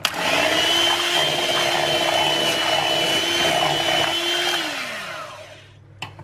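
Cheesecake mixture for a four-ingredient strawberry cheesecake being whisked with an electric mixer, a loud steady motor whir held for about five seconds before it winds down and stops, with a light knock just after.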